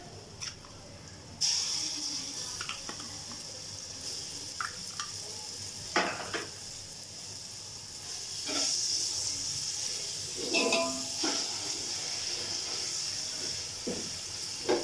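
Ginger garlic paste sizzling in hot oil with fried onions, a steady hiss of frying with occasional scraping and stirring clinks from the pan, close by and continuous throughout.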